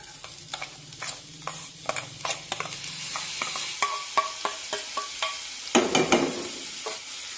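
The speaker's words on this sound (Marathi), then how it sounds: "ही भगर हलक्या तांबूस रंगावर भाजून घेऊया" Washed bhagar (barnyard millet) roasting in ghee over a very low flame: sharp spatula scrapes and clicks in an uneven rhythm over a soft, low sizzle, close by, with no voices.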